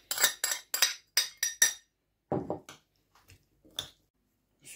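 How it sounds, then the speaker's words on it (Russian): Sweet white onion being stirred into a salad, a series of close wet squishing and clinking strokes, about six quick ones in a row, a pause, then a few softer mixing sounds, no talk. "Добавляем и перемешиваем."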